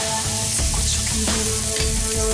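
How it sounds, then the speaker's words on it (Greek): Celeriac pieces salted and coated in corn flour frying in a pan, a steady close sizzle with crackling bursts throughout, no talking. "Τηγανίζουμε τη σελινόριζα ξεχωριστά σε ένα άλλο τηγάνι."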